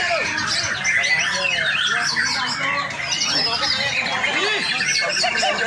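A murai bird sings a rich, fast stream of varied whistles and trills at a bird song contest in Sambas, loud and continuous over a murmuring crowd with other birds calling.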